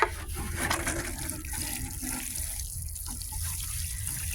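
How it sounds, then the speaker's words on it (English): Water running steadily from a hose or tap while a garden is watered, a soft continuous splash and trickle heard close and fairly quiet. "let's get to watering a little bit here"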